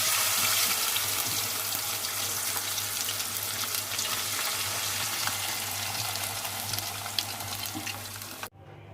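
Potato chips cook in hot oil with a steady, dense sizzling hiss that stays close and even throughout, then cuts off abruptly near the end.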